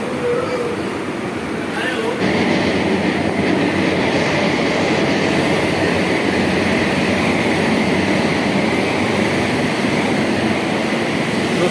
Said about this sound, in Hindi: ये था हमारा आज का ट्रेन का लोकोमोटिव 30328 शियालदा सेट का WAP7 लोकोमोटिव